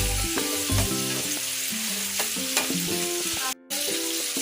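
Flat beans and new potatoes fry in a pan over low heat, a loud continuous sizzle with stirring scrapes and clinks from a spatula, close and without voices.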